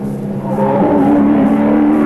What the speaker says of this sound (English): Down through the gears, Gary Rogers coming in for the completion of his one-lap trial.